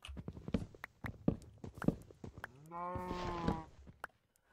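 A cow in the game Minecraft lets out one drawn-out low moo after a run of soft footstep-like thuds, moderately close and alone with no talk.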